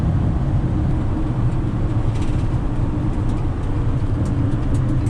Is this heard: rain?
no